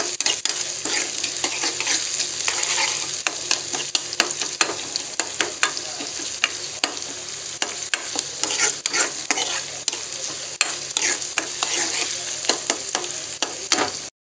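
Garlic-ginger paste is stirred and fried in a pan over a low flame for palak paneer, with steady sizzling and repeated sharp scrapes and clinks of the spoon, close and continuous.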